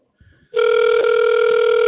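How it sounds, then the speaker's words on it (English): A phone call rings out through a handset as a steady, loud electronic tone that starts abruptly after a moment of near silence and holds unbroken, with no talking over it. "Hold on, I'm gonna call her right now."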